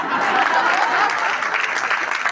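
Steady applause from an audience at a live motivational talk, a dense, even patter of many hands clapping that holds through the whole stretch without a break.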